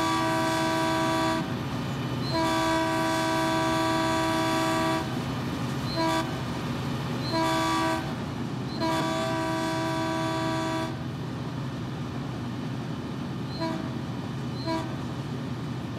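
Train horn sounding in the Train Sim World game on the Peninsula Corridor, a loud sustained blast followed by several shorter toots and a long final blast over steady rail rumble, with no voices.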